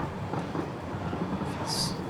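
A train rolling along rails in the video game Satisfactory, a steady low mechanical rumble with a faint rhythmic clatter and a brief high hiss near the end.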